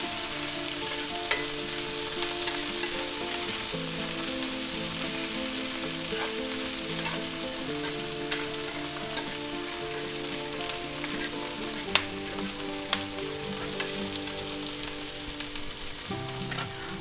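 Peppers and onions stir-frying for Philly cheesesteak, a steady close sizzle like light rain with occasional sharp clicks of a utensil against the pan, continuous and unbroken, without speech.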